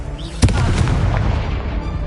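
A Confringo fire-blast spell goes off in Hogwarts Legacy, a single sharp booming burst near the start that rings out into a rumbling, crackling tail over steady background noise.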